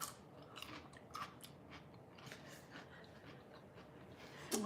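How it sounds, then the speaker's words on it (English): Someone crunches into a fermented probiotic pickle close to a microphone, producing a series of crisp, moist crunches and chewing sounds, faint and repeated over several seconds. "I'm crunching into the mic."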